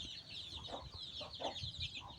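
A breeding rooster clucks softly in a short series of low calls, with other birds chirping faintly and steadily behind it.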